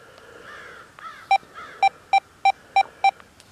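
An XP Deus 2 metal detector set to 6.8 discrimination sweeps over a target, sounding a warbling tone followed by a run of six evenly spaced, sharp, loud beeps.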